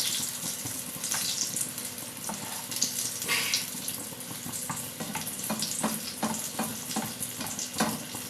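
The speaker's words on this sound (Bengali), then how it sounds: "এরকম করে সব পকোড়াগুলোকে ভেজে নিতে হবে।" Egg and potato pakoras frying in hot oil in a home Bengali kitchen, a steady, fairly quiet sizzling hiss with scattered crackles and pops throughout, no voices.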